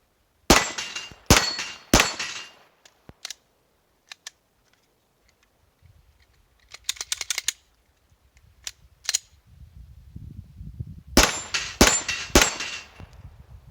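A Glock 17L 9mm pistol with a 6-inch aftermarket barrel fired outdoors at steel targets, sharp shots with ringing pings, first three in quick succession, then scattered single reports and a final rapid cluster, with quiet handling sounds between.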